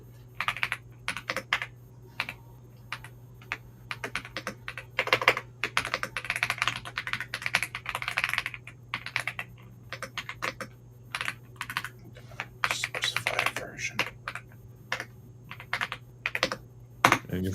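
Typing on a computer keyboard in bursts of rapid, clicky keystrokes separated by short pauses, close and crisp over a low steady hum.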